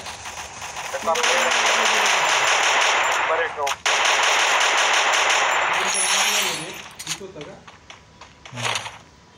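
Rapid automatic gunfire in the Free Fire video game, long loud bursts with brief pauses, ending in a few short volleys, with a voice talking during the firing.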